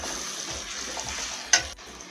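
Tomato with coriander powder and chilli powder stirred in a pan, a soft continuous sizzle with gentle scraping strokes and one sharp clack of the spoon near the end.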